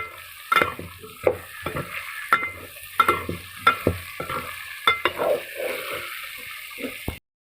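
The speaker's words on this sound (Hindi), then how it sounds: "इन जी ऑयल में भुनाई कंदासीं।" Turnips fry in hot oil in a pan, with a soft sizzle under repeated scraping stirs that come in irregular bursts up close and stop abruptly near the end.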